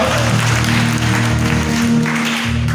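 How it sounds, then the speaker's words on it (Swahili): A church congregation claps during a Sunday worship service, a steady wash of hand claps under sustained music tones, continuous and fairly loud for the whole moment. "Pigia Yesu makofi"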